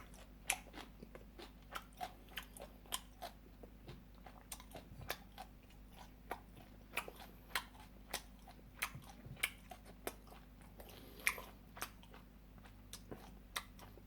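Chewing and eating gomtang beef with kimchi, the meat lightly dipped in salt: close, soft, wet chewing with small crunchy bites repeating steadily throughout, no talking.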